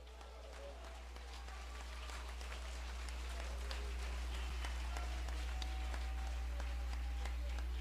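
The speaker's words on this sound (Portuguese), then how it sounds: "Aplauda Jeová esta noite" An evangelical church congregation applauds during a revival sermon: faint, scattered claps at a distance over a loud, steady low hum.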